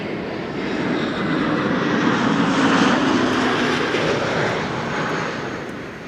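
At Amsterdam Schiphol airport, an Airbus A380 airliner's engines produce a loud, sustained roar that builds over the first seconds, holds strong through the middle, then slowly eases off, with no voices present.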